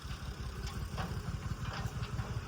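A tractor engine idles nearby with a low, chugging throb, continuous throughout with faint higher noises on top.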